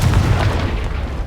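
A deep, rumbling boom from the Confringo fire spell exploding in Hogwarts Legacy, one heavy low blast that fills the whole moment and fades slightly.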